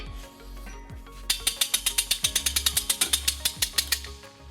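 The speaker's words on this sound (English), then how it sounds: "We'll be using our U-Haul exclusive hitch jack." A hitch jack cranked to raise a heavy trailer hitch into place under a 2008 Toyota RAV4, giving a fast, even run of close, sharp ratcheting clicks over a low mechanical hum.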